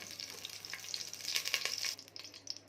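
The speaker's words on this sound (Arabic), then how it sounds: "حبايبي بقى معانا حلتنا وهنحط فيها حتة سمنة كده علشان نعمل بقى الكرشة بتاعتنا. هنشوحها فيها بنقطة زيت صغيرة" Tripe sautéing in ghee with a little added oil in a pot: a steady, close hiss of frying with a bright sizzle that swells in the middle, no voices.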